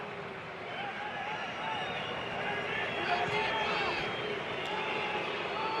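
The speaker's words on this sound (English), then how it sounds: "This is the moment you can hear the crowd getting a little bit restless. You know, those whistles are a good sign." Restless football crowd at a Mexico vs USA friendly in a stadium, a broad steady roar with scattered whistles rising over it, heard from a distance.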